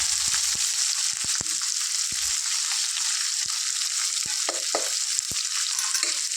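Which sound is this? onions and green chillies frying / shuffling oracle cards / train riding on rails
onions and green chillies frying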